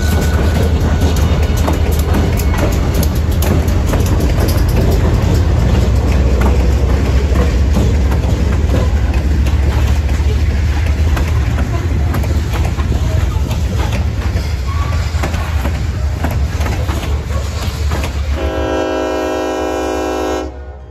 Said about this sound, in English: chasing Northern Maine Junction to Waterville train